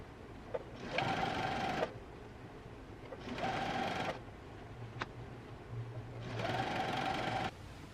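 A sewing machine runs in three separate bursts of about a second each, stitching along the folded waist of a skirt, with quiet pauses between runs and no talking.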